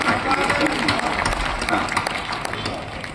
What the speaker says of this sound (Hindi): एक बार जोरदार तालियां जी गड़गड़ा